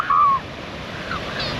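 Ocean waves wash steadily at Twilight Beach, a sheltered shore, a soft continuous surf hiss with a brief whistle-like bird call near the start.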